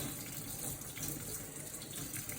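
Water runs steadily from a sink tap as a paint brush is rinsed under it, a continuous close gushing splash with no talk over it.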